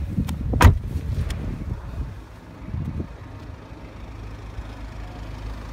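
The boot of a 2012 Jaguar XF D Portfolio Black shuts with a single solid thud near the start, followed by quiet outdoor wind and ambient rumble.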